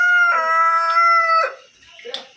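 Roosters crowing: one long, strained crow runs for about a second and a half, followed by a shorter, fainter call near the end.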